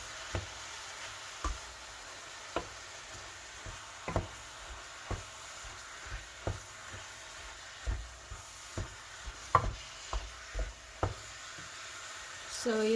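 Onions and scallions are stirred together in a bowl for egg roll filling, making a regular series of soft, wet scraping strokes, close and quiet.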